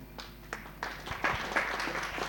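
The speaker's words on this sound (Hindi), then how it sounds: "ताली भी नहीं बजा सकते हो?" Scattered audience clapping at a spiritual lecture session, starting from a few claps and building into light applause of a modest crowd in a hall.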